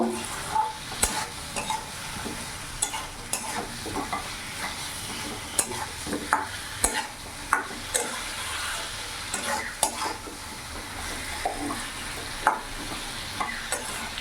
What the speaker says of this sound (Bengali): কিছুক্ষণ ভাজা ভাজা করে কষিয়ে নেব।